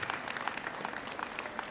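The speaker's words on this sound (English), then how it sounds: "let's give one big round of applause to the best team around in the best town" Faint, distant applause from an audience at a township senior summit honoring a local team, a soft steady patter of many hands heard from afar.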